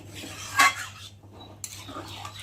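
A spoon scrapes and clinks against a pot as chicken curry is stirred, with one louder metallic knock and a few quieter scrapes over a faint hum.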